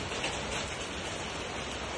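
Heavy rain with strong wind in Alor Setar, a dense, steady roar of downpour hitting surfaces, loud and close, with no talk.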